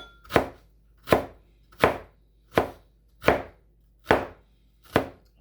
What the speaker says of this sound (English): we'll chop it into little sticks, slivers